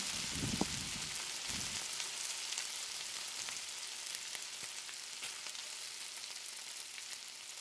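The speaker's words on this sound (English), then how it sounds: "add the sweet peppers and carrots. Give that a quick stir also." Sweet peppers and carrots sizzle as they are stir-fried in a hot pan, a steady close frying hiss with a few clacks and scrapes from stirring near the start and no voices.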